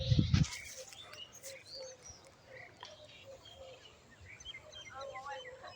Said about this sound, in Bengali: শুধু প্রকৃতির আওয়াজ, পাখির আওয়াজ